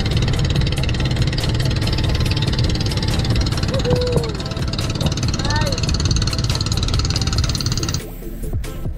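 Fishing boat engine running at sea on a spearfishing trip, a steady loud mid-pitched drone with a continuous rhythmic thrum that cuts off abruptly near the end.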